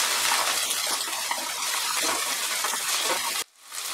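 Chopped carrot, onion and mixed vegetables fry on a high flame, making a loud, dense, steady sizzle up close that stops abruptly near the end.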